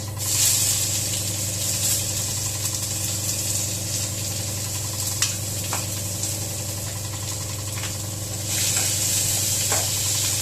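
A steady sizzle of onions frying in a pan, continuous and close, over a low constant hum, with a few faint clinks.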